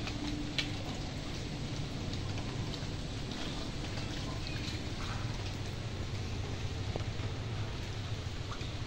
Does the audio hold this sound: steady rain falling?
yes